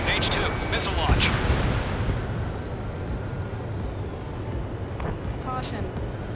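Missile launches and explosions during an Ace Combat 7 aerial battle: a loud, continuous rumbling roar that stays dense throughout, with sharper blasts near the start and a few cockpit warning tones layered under it.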